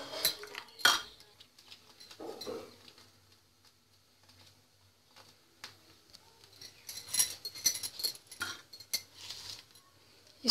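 A spoon clinks and scrapes against a bowl while batter for paneer potato vada is mixed, in irregular bursts of close, light metallic taps with quieter pauses between.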